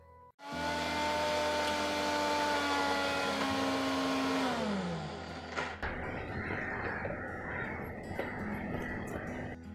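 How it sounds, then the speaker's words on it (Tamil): A kitchen mixer grinder whirs loudly and close as it grinds peanuts with chili powder for murukku, running for about four and a half seconds before the motor winds down. Quieter clatter and handling noise follow. "இப்போ நாம் இதை நைஸாக மிக்சியில் அரைச்சி எடுக்கலாங்க."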